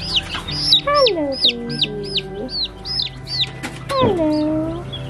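Baby chicks kept under a heat lamp chirp in quick, repeated high peeps, fairly close and lively, with a voice briefly greeting them.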